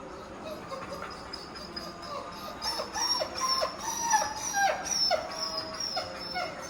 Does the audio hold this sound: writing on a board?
no